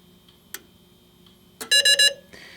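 A fire alarm panel under system test sounds from a pull station: a faint click and tick, then three loud, evenly spaced electronic alarm beeps close by, followed by a softer buzz, with no talking.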